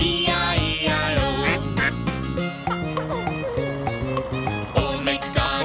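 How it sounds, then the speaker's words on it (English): Duck quacks repeat in quick succession over bouncy nursery-rhyme music, loud and close. "With a quack quack here and a quack quack there, here a quack, there a quack, everywhere a quack quack."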